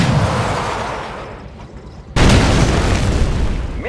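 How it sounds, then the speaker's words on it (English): V3 missile launch in the video game Red Alert 2, a loud sudden blast that cuts in after a fading rumble, then a sustained roaring burst of rocket exhaust. "Missile launch confirmed."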